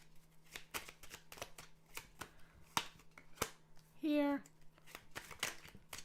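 Tarot cards are shuffled, giving quick rustling flicks and light taps that are spread through the moment, with one brief louder riffle near the end, while a person speaks over it.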